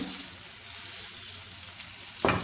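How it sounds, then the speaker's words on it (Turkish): Cabbage flowers fry in a pan as butter melts around them, a close, steady sizzle with a brief louder crackle near the end. "Evet nar gibi de kızardı gerçekten."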